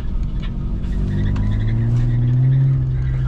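A car driving close by with a steady loud engine drone that rises slightly in pitch as it accelerates, no talking over it.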